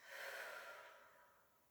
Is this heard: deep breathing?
yes